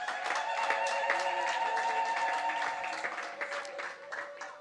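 A church congregation at a prayer service claps while high, sustained ululating voices ring over the applause, the sound steady for several seconds before easing off slightly at the end.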